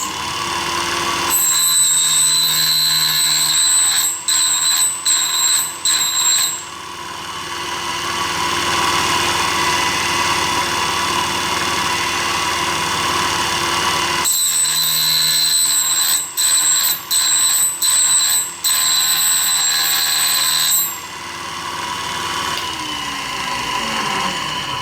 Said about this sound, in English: put it on the sector plate so we can grind the secondary clearance angle on the end of the drill